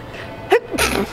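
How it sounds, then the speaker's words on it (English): A single sharp, close sneeze, a quick intake followed by an explosive burst. "You just sneezed on those flowers"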